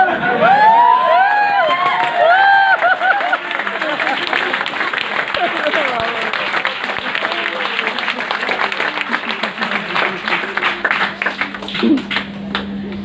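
An audience at a training session breaks into loud, sustained clapping with some cheers and whoops, starting at full strength and then thinning into scattered claps, while someone talks briefly partway through.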